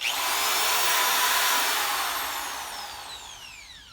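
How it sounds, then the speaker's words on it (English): A cordless drill whirs near and fairly loud, its motor whine sweeping up and then gliding down in pitch as the speed changes over a few seconds before fading. "it has variable speed, so you can start off low, and it goes up high, and then you go all the way to here."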